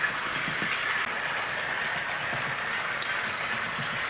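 An Oxford Rail N7 model locomotive runs along track pulling Southern Region green carriages, giving a steady, continuous rolling rumble with faint rail clatter, even and unbroken throughout.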